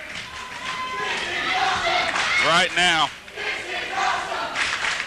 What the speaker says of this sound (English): the crowd here at the NWA Arena getting behind Team Anarchy